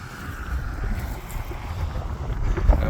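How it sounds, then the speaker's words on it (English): Strong gusty wind buffets the microphone outdoors as a weather front moves through, a steady low roar that rises toward the end with no speech. "Sorry if the wind's pretty bad, but unfortunately there's a front coming through."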